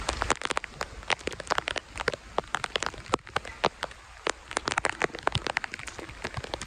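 Heavy rain falls in a farming area during a downpour, a dense stream of close, sharp drops and crackling splashes pattering on a hard surface, steady and loud throughout, with no talk.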